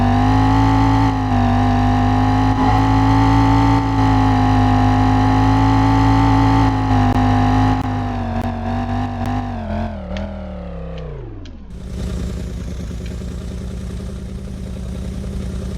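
A loud car engine in the video game Driving Empire holds a steady drone, then its pitch sags and drops before a brief, noisy revving burst takes over near the end.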